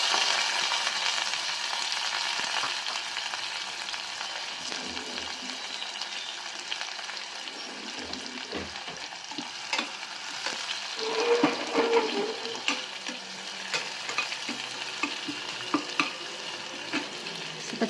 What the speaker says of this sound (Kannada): ಸ್ವಲ್ಪ ಚೆನ್ನಾಗಿ ಫ್ರೈ ಆಗಲಿ, ಬ್ರೌನ್ ಕಲರ್ ಬರಬೇಕು.